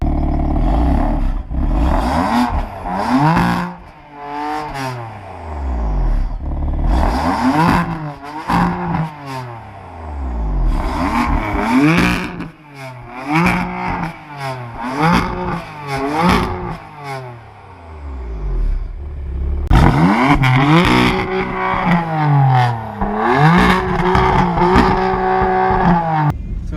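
A tuned 505 hp BMW M3 with an aftermarket exhaust revs repeatedly up close, sharp climbing blips dropping back to a burbling idle, then a longer loud hold, with a brief murmur from someone nearby.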